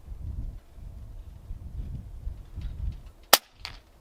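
An Air Arms S510XS Stealth Carbine air rifle fires a single .177 JSB pellet outdoors, a sharp muffled crack with a faint follow-up thud. Low wind rumble sits underneath.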